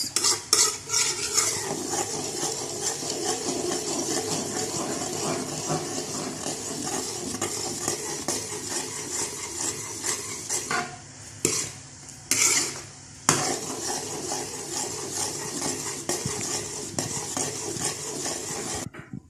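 Sweet glutinous malagkit rice cooked with sugar and coconut milk is stirred steadily in a sizzling pan, with a continuous scraping of a utensil against metal and a couple of brief pauses near the end.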